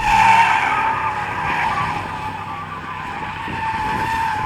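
Continuous loud screech of an Audi S8's tyres skidding through a donut, dense and unbroken for the whole stretch with engine noise underneath and no talking.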